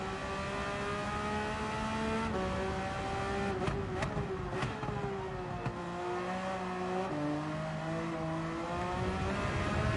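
A race car engine accelerating at full power during Manufacturers Cup practice, a loud, steady close-up drone whose pitch climbs and drops back several times through gear changes, with no talk over it.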